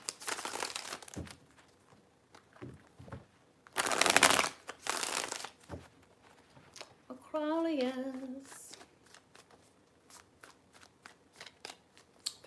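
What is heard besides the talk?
tarot cards being shuffled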